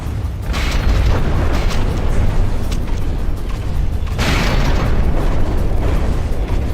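Game explosions blowing blocks off a structure, heavy booming blasts with deep rumbling tails, one dense stretch early and another strong burst later, loud and close with no talk.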